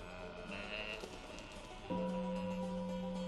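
Sheep bleating in the Crowd Simulator video game, a few short bleats over steady game ambience, followed by a louder sustained tonal sound near the end.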